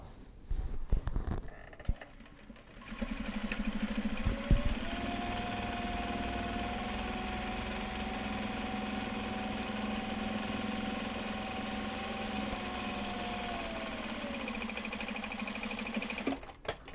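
A sewing machine sews a zipper into a large box bag made from Japanese fabric, running as a steady mechanical whir for about eleven seconds after a few handling clicks, then stopping.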